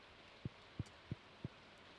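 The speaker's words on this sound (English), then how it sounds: "The raindrops are really loud on the metal roof of our trailer." Raindrops striking the metal roof of a trailer in Stardew Valley, four soft, evenly spaced low thumps over a faint steady hiss, quiet and fairly close.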